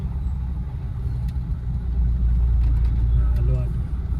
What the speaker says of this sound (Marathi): ट्रॅफिक जाम आहे फुल